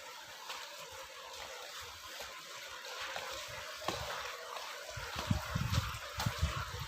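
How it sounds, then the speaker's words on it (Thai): Water trickles and gurgles steadily inside a cave, a faint, continuous flow with a few louder splashy bursts toward the end, heard alone without talk. "เป็นเอาน้ำไหลเลย"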